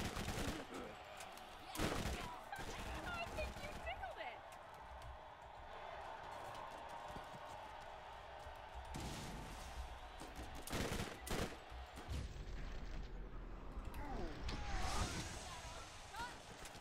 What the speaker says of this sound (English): Explosions already.